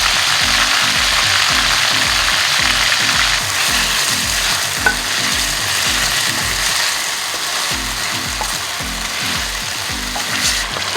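Marinated chicken sizzling and frying loudly in a pan with garlic, a steady bright hiss over a repeating rhythmic mechanical churning, continuous throughout with no talking.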